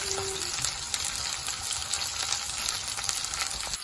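Steady crackling sizzle of ginger paste frying in hot oil with tomatoes, continuous and close, with occasional sharper pops and no voices.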